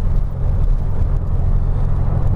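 Steady low rumble of a car driving along a road in the evening, a constant close engine and road drone with no passing events or voices.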